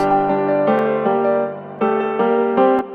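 A piano plays a short melodic phrase in a repeating loop, with clear struck chords and steady rhythmic attacks, loud and close with no voices.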